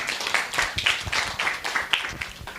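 A small workshop audience claps, the irregular slaps close and fairly loud, a modest scattered patter rather than a big ovation that carries on for a couple of seconds.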